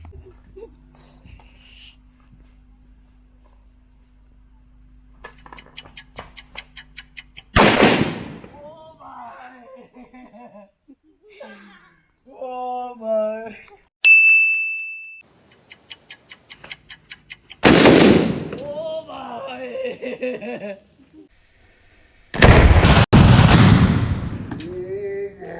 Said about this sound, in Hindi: ये पटाखा जो है बहुत छोटा है इसलिए ज़्यादा नहीं फटा